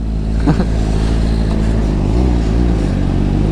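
A Kawasaki Ninja ZX-4RR motorcycle engine idles and revs close by with a rough, rattling, scraping mechanical undertone, loud and continuous.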